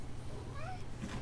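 A house cat gives a short, drawn-out meow, close and moderately loud over a noisy indoor background.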